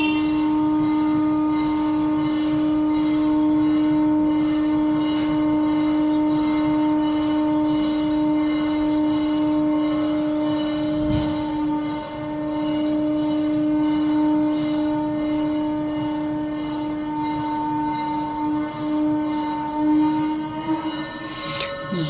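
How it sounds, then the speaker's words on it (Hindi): A conch shell is blown at a Ram temple, sounding one long, loud, sustained and steady droning tone for over twenty seconds with little change in pitch. No voices are heard. "पहले शंख की आवाज़ पूरी सुनते हैं।"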